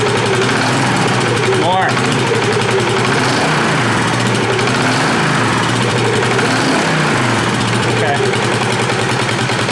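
A small engine that was pushed hard on a previous trip runs at steady middle throttle, producing a loud, continuous buzzing drone close by while people speak briefly over it.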